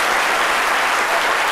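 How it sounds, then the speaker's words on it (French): A studio audience at a live TV talk show claps in a dense, continuous burst. The applause is loud and close and lasts the whole moment, with no talk. "pouvez vous applaudir encore une fois."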